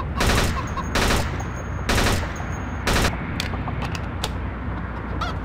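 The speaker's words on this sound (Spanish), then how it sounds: "Es un arma de ráfagas de 3 tiros, güey. Es otra pinche M16 mugrosa" An M16 rifle in a shooter video game fires four loud, evenly spaced bursts of three rounds each, about a second apart, each burst a sharp rattling crack, followed by quieter mechanical clicks of the weapon.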